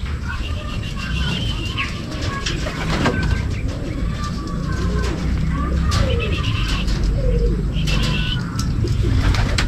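Pigeons coo and call repeatedly at a loft landing board, with soft wing flutters and scattered bird sounds over a steady outdoor background; a voice is faintly present.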